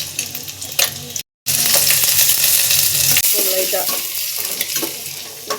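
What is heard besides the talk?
ginger garlic paste frying in oil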